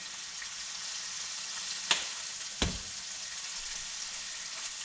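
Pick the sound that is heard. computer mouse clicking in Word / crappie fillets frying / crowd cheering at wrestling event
crappie fillets frying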